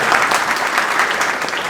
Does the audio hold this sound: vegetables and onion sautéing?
no